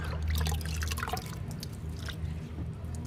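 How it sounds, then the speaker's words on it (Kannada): Liquid fertilizer is poured onto garden plants, a close run of small splashes and drips trickling onto soil and leaves for a few seconds, with no talk. "ನೋಡಿ ಈ ರೀತಿ ಸ್ವಲ್ಪ ಸ್ವಲ್ಪ ನಾವು ಗೊಬ್ಬರನ ಹಾಕ್ಕೊಳ್ಬೇಕು"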